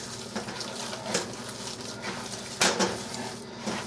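Hands squish and knead a meat loaf mixture with tomato sauce in a bowl, making soft wet squelches and occasional knocks against the dish, close and fairly steady, with a sharper clack near the end.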